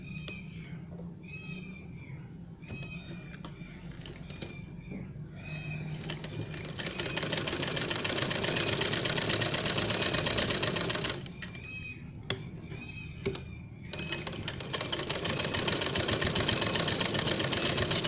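Sewing machine stitching a baby frock from the armhole, first in short rhythmic bursts of stitches, then running steadily for several seconds, pausing briefly with a few single stitches, and running again, all close and without talk.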